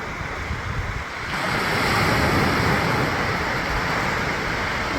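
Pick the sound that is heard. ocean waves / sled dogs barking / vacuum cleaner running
ocean waves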